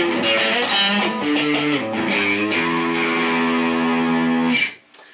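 Distorted electric guitar on a Hard Knocks Guitars MayCaster with all three pickups engaged plays a riff of quick chords that settle into a ringing sustained chord, loud and full, then stop abruptly.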